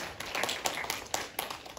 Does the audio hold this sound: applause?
yes